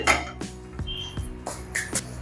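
A metal oil kadai is set aside in a home kitchen during aloo biryani cooking, producing several sharp clanks and clinks spaced irregularly, close and fairly loud, with no speech.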